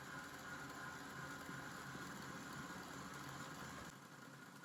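A KitchenAid stand mixer whirs steadily as it is turned down from top speed 10 to speed 8 while whipping génoise sponge batter, a continuous close motor hum that eases slightly near the end, with no talking.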